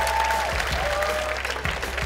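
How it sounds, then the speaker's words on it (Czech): Audience applause at the Česko Slovensko má talent 2018 talent show, a steady wash of crowd clapping at moderate level, with a faint tone and low thumps beneath it. "Obrovský potlesk"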